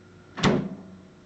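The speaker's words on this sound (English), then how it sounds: "door closes nice and solidly now" An Amana Radarange RR-1000 countertop microwave from 2015 shuts its door with a single solid thump, a short close-up impact that fades quickly, with no talking.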